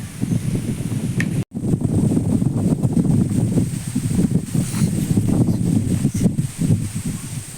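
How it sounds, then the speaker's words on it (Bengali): Steady wind gusting across open village fields, a loud continuous rush buffeting the microphone with rustling, broken by one brief dropout, no talk. "বাতাসটা দারুণ লাগছে।"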